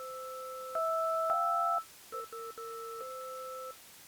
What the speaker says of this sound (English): Sounds like phone, landline phone tones.